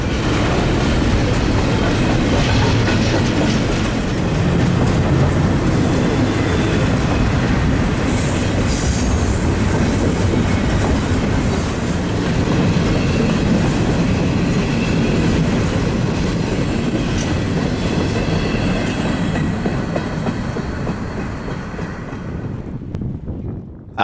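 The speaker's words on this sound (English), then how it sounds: "This train was yet another A443, a mixed train from Edmonton to Calgary" A CN mixed freight train runs past close by from Edmonton to Calgary in Alberta, a loud, steady roar of rolling cars with rhythmic wheel clatter and squealing, plus some wind buffeting, before it starts to fade at the very end.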